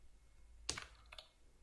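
Code being typed on a computer keyboard, a short quiet burst of two or three close key clicks over a faint background hum.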